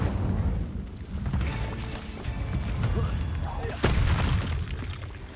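Incendio fire spell cast in the video game Hogwarts Legacy: a loud, dense burst of fiery whooshing and booming impacts that rolls on continuously, with a sharp crack near the end amid ongoing game effects.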